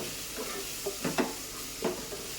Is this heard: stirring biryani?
yes